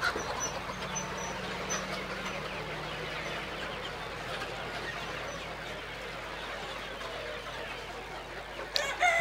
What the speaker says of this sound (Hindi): इसमें मुर्गे भी हैं, मुर्गियां भी हैं।